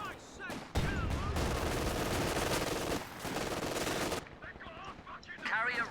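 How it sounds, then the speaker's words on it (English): A bunker machine gun in the strategy game Company of Heroes 2 fires a long, dense, loud burst of rapid shots and then stops. Softer battle noise and voices follow. "It looks like it's got a machine gun. Yep, it's got a machine gun."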